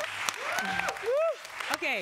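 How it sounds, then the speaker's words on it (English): Audience applause at a Friday Night Live creatives showcase swells beneath lively speech, a crowd's clapping running as a textured wash under the talking voices. "but round of applause. Give it."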